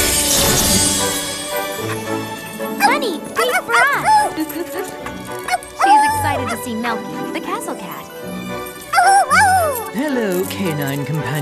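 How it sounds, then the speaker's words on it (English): A cartoon dog barks, yips and whimpers in a children's animated series, the sounds scattered between musical tones and character voices speaking over them. "Hello, canine companion of Chelsea"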